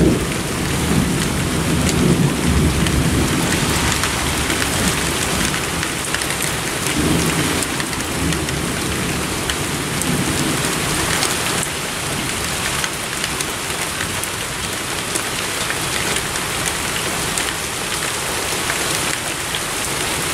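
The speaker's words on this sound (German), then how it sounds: "Aber der Regen hält sich echt in Grenzen." Heavy rain pounds down steadily through a thunderstorm with a shelf cloud and gusts in Kerken, and low thunder rumbles under the loud continuous downpour.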